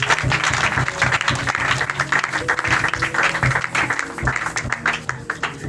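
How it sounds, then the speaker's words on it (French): A church congregation applauds and cheers loudly and steadily for the King of Kings, dense clapping with voices rising throughout. "Est-ce que tu peux acclamer très fort pour le roi des rois?"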